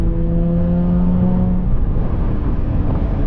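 A Dodge Charger engine hums steadily at partial throttle on a late-night drive, a loud, continuous low drone with a rising tonal whine early on and no voices.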